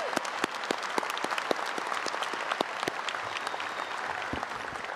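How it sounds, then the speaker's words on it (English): Applause from an audience at a college commencement ceremony, steady dense clapping with sharp individual claps throughout, sustained and moderately distant in a large space. "So please join me in thanking her with a big round of applause for her leadership."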